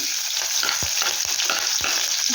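Mustard seeds and cumin sizzle and crackle in hot oil for a green gram palya, a loud, dense, continuous frying hiss broken by a few sharp pops and scrapes close by, with no speech.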